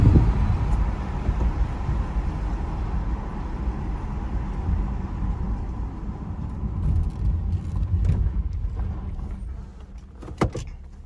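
A 2012 Chevrolet Camaro convertible with a factory V8 engine and stock exhaust, heard as a steady low engine rumble with road and wind noise while driving, moderately loud and continuous, without talk.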